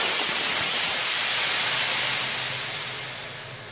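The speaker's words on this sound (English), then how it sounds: "And here we go, release the pressure." Compressed air bursts out of a waste oil foundry burner's airline as pressure is released, a loud steady hiss that holds for several seconds and then slowly fades.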